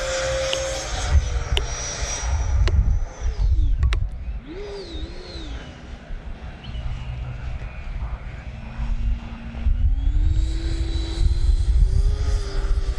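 A Freewing F-22 90mm RC jet plane flies inverted at high alpha, its ducted-fan whine rising and falling steadily as it passes, loud and continuous over wind noise with no talk.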